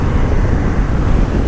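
A Harley-Davidson Flow Rider S 2024 cruiser motorcycle under way, its engine giving a steady, loud, dense rumble blended with wind and road noise and no break throughout.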